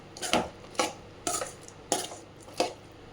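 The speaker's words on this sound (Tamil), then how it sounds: "இப்போ அதில் காலிஃப்ளவர் ஆட் பண்ணி நல்லா மிக்ஸ் பண்ணி விட்டுக்கிறேன்" A spoon knocks against a pan while cauliflower is stirred into Gobi Manchurian gravy, giving five crisp, evenly spaced metallic clacks at close range with no talk.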